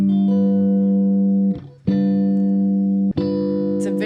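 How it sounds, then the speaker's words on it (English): Sustained chords on a keyboard-like instrument, loud and steady, with two brief breaks where a new voicing strikes; a dominant seventh chord built as a major triad with an added minor seventh, heard alone without talk. "We're actually gonna have a minor seven in that major triad."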